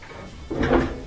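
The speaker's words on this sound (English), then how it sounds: "Close that door." An LG gas dryer's door swings shut with a soft, muffled thud after a moment of quiet, a single short close heard nearby.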